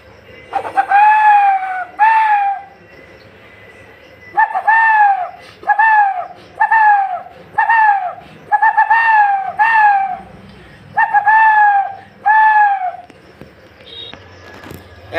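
A human voice mimics a dove's call: about nine loud, close, hooting coos in short bursts with brief pauses between them, ending in near silence.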